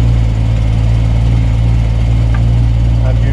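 An original side-valve engine in a Volvo TP 21 runs steadily, a loud, low, even rumble holding constant throughout with no revving.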